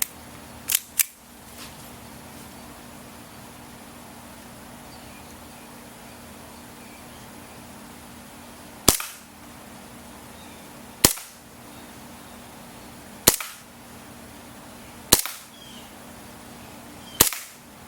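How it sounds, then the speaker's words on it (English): KWA M1911 Mark 4 airsoft pistol firing .20 gram BBs on propane at an indoor range, heard as two quick sharp cracks, a long pause, then four evenly spaced single shots, loud and crisp with no talking. "The accuracy test was conducted with Elite Force .20 gram BBs on propane from a range of 30 feet."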